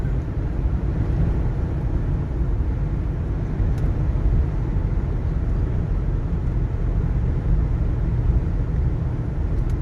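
Cabin of a 1989 Lincoln Town Car Signature Series cruising at 80 mph: a steady, even broadband road and wind hum with a low rumble, continuous and moderately loud, with no talk.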